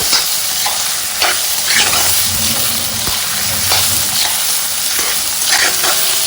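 Steady, loud sizzling and crackling of pork frying in hot oil, with occasional scraping as it is stirred in the pan.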